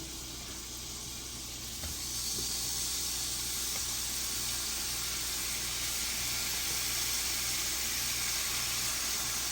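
A thin seasoned steak sizzles in a pan, giving a steady, loud hiss that swells after a couple of seconds and then holds evenly, with no talking over it.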